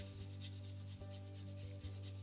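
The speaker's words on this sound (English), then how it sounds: "Microplane, so you've got finely grated ginger in with that chili." Fresh ginger rasped finely on a Microplane grater over diced chili, a steady soft scraping that runs continuously with small rhythmic strokes, close and fairly quiet over a low steady hum.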